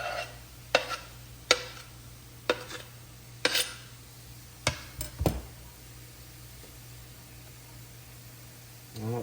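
Habanero peppers sizzle softly in a pan of Mongolian beef noodles while a utensil stirs, giving several sharp scraping knocks at irregular intervals over a faint steady frying hiss, close by.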